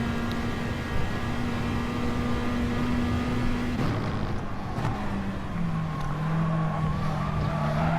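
Peugeot RCZ race car engine in GT Sport, a steady droning engine note holding pitch, then shifting lower as another RCZ runs close ahead, moderately loud and without talk.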